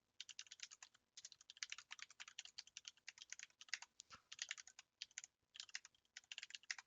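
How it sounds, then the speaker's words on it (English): Rapid clicking from a Corsair Vengeance mechanical keyboard during a typing test, crisp clacky keystrokes in quick bursts with brief pauses, close and alone with no voices. "That was the Corsair Vengeance keyboard. It's a mechanical keyboard, so you'll probably hear the keys a little bit more."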